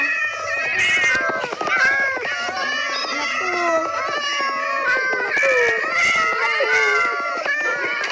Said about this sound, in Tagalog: Oo, ang dami namang pusa.